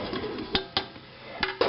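Pieces of fish fillet and potato are moved into a cooking pot, with several sharp clanks of metal on metal at irregular moments over a quiet kitchen background.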